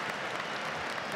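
Stadium crowd applause at an Eredivisie football match between Ajax and FC Groningen: a continuous, distant roar of clapping from the stands, steady and fairly quiet, without a clear voice on top.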